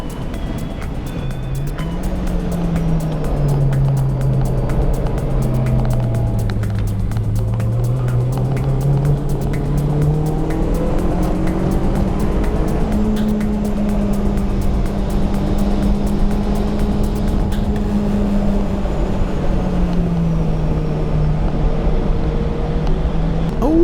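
Car driving on a race track during a track day, heard from inside as a loud continuous engine drone that rises and falls with throttle and gear changes for the whole stretch, with no talking.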